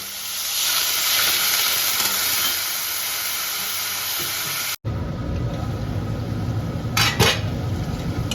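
Spice masala sautéing in a pan for a fish curry, a loud steady hiss with metal utensil clinks; the sound cuts briefly and resumes with more scraping and stirring.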